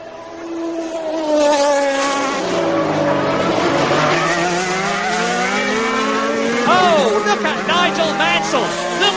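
Williams Renault Formula One cars racing with Ayrton Senna, engines screaming at high pitch and sweeping past close by, tires squealing, with a commentator talking over the roar.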